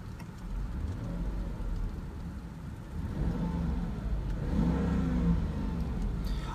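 A 2001 Mercedes S430 engine idles and revs with a rough, rumbling exhaust note from a faulty catalytic converter, steady low drone swelling slightly midway, no voices.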